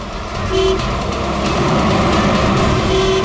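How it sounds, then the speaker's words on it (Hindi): A vehicle horn toots twice, short flat blasts about two seconds apart, over steady loud traffic and engine rumble. "अरे क्यों हॉर्न मार रहा है?"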